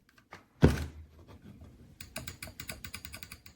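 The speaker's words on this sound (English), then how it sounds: "Clicking the buttons, it still works." An Apple IIgs mouse, model A9M0331, has its buttons pressed: one heavy thunk, then a quick run of light, crisp clicks, close up with no talking.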